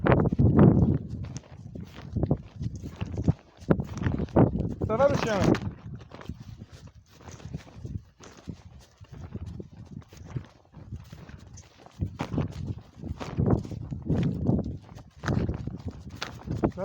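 Horses walking outdoors, hooves clip-clopping in an uneven run of soft thuds, with people talking in French throughout.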